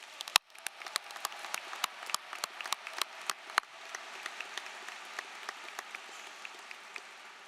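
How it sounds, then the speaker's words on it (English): Scattered applause for students at a graduation ceremony from a small group, individual claps distinct and sharp, gradually thinning and fading out. "Please join me in giving these students a big round of applause."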